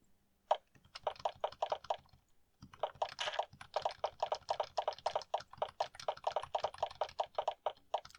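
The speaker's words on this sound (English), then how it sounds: "I hope that my keyboard sound isn't too loud for you" Loud, clacky computer keyboard typing in fast bursts of sharp key clicks, with a brief pause before the steady clatter resumes, heard close and alone.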